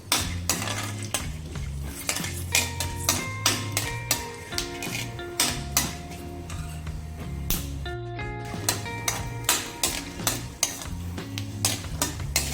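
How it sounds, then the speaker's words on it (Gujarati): Peanuts sautéed in a pan for sabudana khichdi, with repeated metal spoon scrapes and clinks against the pan over a steady sizzle, while soft background music plays throughout. "આટલું ઉમેરી શેંગદાણાને 1 મિનિટ માટે સાંતળી લઈશું."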